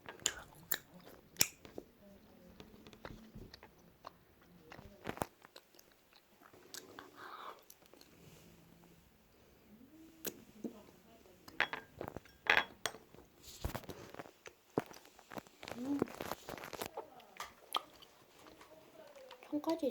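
A person eats Korean rice cake up close, with soft chewing and biting, wet squishy mouth noises and occasional clinks of cutlery or dishes, scattered in irregular bursts amid brief talk.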